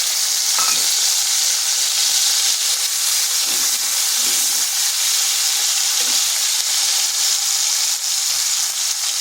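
Tomato with ginger and green chili paste frying in a pan for a vegetarian ivy gourd dish, a loud, constant hissing sizzle with a few faint utensil knocks.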